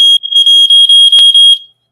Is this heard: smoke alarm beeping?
yes